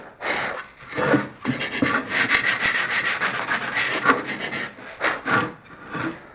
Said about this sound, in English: just take a little corner of the sandpaper, just run it across there, just to soften that corner just a bit